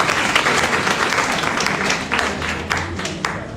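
A crowd at a political rally applauds, dense clapping close by with a few sharper individual claps standing out, continuous through the short stretch.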